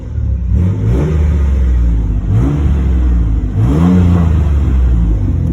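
A Chevy Blazer engine fitted with Flowmaster Super 10 mufflers and dual four-inch tips revs loudly and close up, in several rising pulls with a deep rumbling exhaust.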